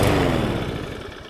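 A DeWALT 173cc petrol engine on a 21-inch self-propelled lawn mower starts and settles into a close, rough, clattering run that fades slightly over about a second.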